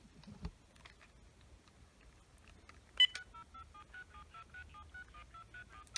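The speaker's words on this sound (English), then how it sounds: "Oh, it's gonna dial all of those." A clunky early-2000s Uniden analog cordless phone dials a quick, steady run of DTMF tones, preceded by a few button clicks and faint handling, all close and clear with no speech.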